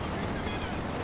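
Machine gun fire rattles through a Company of Heroes 2 match, a dense, continuous burst of rapid gunshots with a broad, noisy roar filling the whole short moment.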